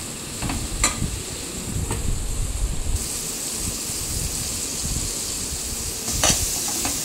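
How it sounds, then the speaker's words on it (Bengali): Mixed vegetables with turmeric sizzle steadily in hot oil for a bitter chorchori, with occasional scraping stirs of a spatula in the pan, close and continuous, no talking. "খুব বেশি একদম লাল করে ভাজতে হবে না।"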